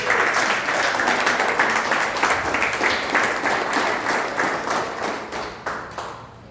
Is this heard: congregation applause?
yes